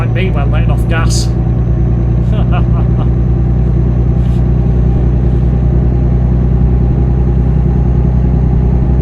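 A Peterbilt truck engine in American Truck Simulator drones loud and steady with a deep low rumble throughout, while a voice talks over it at the start.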